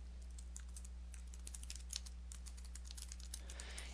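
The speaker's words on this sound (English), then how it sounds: "So we'll click over into our notebook and start typing." Steady typing on a computer keyboard while entering notes in OneNote 2013, a continuous run of close, crisp key clicks with a few louder strikes, alone with no talk.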